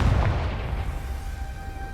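Confringo blasting spell explosion in the video game Hogwarts Legacy: a single deep, close boom that quickly fades into a low rumbling decay.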